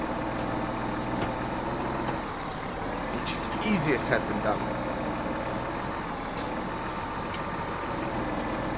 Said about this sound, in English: We just need to get the tractor off the top